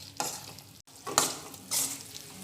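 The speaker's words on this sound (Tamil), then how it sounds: "ஒரு 5 நிமிஷம் நல்லா வதக்குங்க." Garlic for a pickle sautés in oil in a pan, a steady sizzle broken by bursts of stirring and scraping from a spoon, close and fairly loud with no voices.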